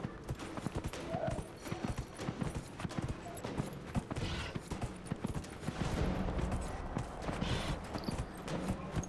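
Horse hooves clip-clop in Dragon Age: Inquisition, a steady fast rhythm of dull thuds at close range continuing throughout under game ambience.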